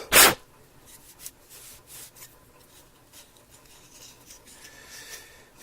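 Dust is wiped off the internal parts of a Rhodes Mark V Stage 73 electric piano, with soft intermittent rubbing and brushing strokes after a sharp, loud scrape at the start.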